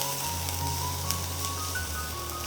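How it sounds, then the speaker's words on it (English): Two chopped onions dropped into hot oil in a kadai for restaurant-style kadai paneer, giving a steady close sizzle with faint crackles and a low hum, no talking. "when the oil is nice and hot, so I am going to add in our chopped onions"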